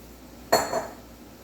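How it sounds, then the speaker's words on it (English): Washed yellow wax beans tipped into a pan, a single short clattering tumble with a metallic clink, close and moderately loud against a quiet background. "I'm going to just add the beans, the yellow wax beans in."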